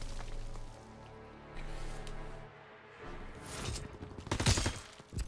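Gunfire from a Resistance-class shooter video game: a burst of sharp, loud shots near the end, with a crashing impact, following quieter stretches of game ambience; no talk.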